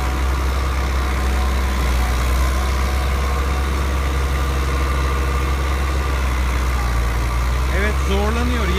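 A 1988 tractor engine with no rebuild drones low and heavy at a steady, laboring pace while plowing hard ground, loud and close, with a voice briefly audible near the end.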